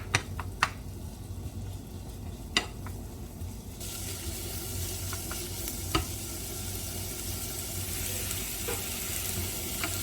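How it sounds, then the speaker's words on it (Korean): Onions sizzle steadily in a hot pan for homemade hamburgers, a constant crackling hiss with a few sharp clinks of a utensil against the pan. "양파 볶아주실 거예요."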